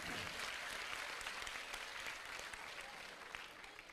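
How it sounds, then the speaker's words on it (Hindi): An audience claps for a child at a spiritual discourse gathering, a sustained, even roll of applause from many hands, fairly quiet and fading slightly toward the end. "वाह, तालियां बजाओ बच्चे ने"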